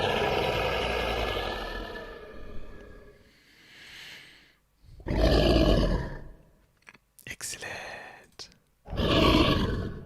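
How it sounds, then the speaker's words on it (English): Red dragon roar from a Sirenscape library, voiced by a man: several loud, deep growling roars in separate bursts with pauses between them, and a short spoken word in a gap. "Here's a Red Dragon Roar already available."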